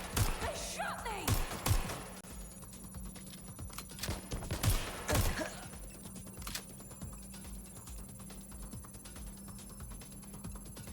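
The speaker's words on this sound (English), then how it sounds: "Incoming fire! Shots fired!" Gunfire in the open-world game Watch Dogs Legion: a few loud, sharp shots in quick succession near the start, then quieter scattered cracks over a steady low hum of game ambience.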